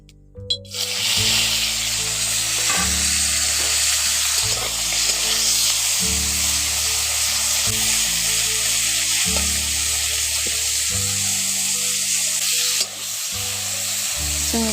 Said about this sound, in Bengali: তেলটা এখন গরম হয়ে গেছে, এবার চিংড়ি মাছগুলো ওর মধ্যে দিয়ে দিচ্ছি।